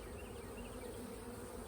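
Honey bees buzzing steadily around an open hive in late November in South Alabama, a dense, even drone of many insects close by, with no speech.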